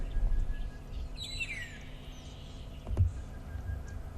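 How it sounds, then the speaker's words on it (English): A few faint bird chirps and a short sweeping call in a quiet outdoor setting, with a low background rumble and one soft thump. "Lots of bird activity at the moment."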